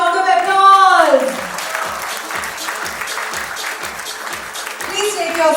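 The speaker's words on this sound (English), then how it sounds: "Now please give yourselves a huge round of applause." Audience applause at a corporate awards ceremony for Tavant Technologies, a broad wash of clapping in a large hall that swells under an amplified voice at the start and end.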